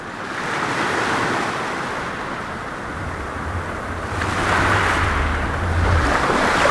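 Ocean waves washing onto an island shore at high tide, a steady loud wash of surf that swells louder in the second half, with some wind rumble and no voices.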